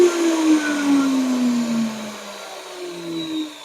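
A Bosch circular cut-off machine runs close and loud, its motor whine sliding steadily lower in pitch as it winds down, with no talk.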